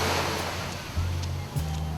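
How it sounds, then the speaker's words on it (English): Calm ocean waves wash in at Waikiki beach on Oahu as a steady, close, broadband surf hiss with a low rumble underneath, running continuously for about two seconds. "splashing in the calm waves."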